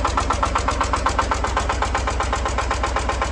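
A Shifeng SF 240 B tractor's engine running just after being started, a steady, close diesel chugging with a fast, even knocking rhythm that continues unbroken.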